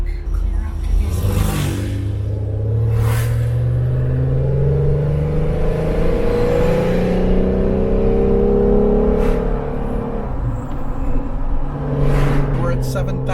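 A big dirt truck grinds up a steep mountain road ahead, its deep laboring engine rumbling and shifting pitch continuously, with occasional louder bursts and a voice talking over the drone.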